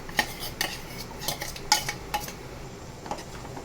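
A spoon stirs basmati rice through spiced vegetable pulao in a metal pan, giving irregular scraping strokes and sharp clinks against the pan, close and fairly quiet, with no talking.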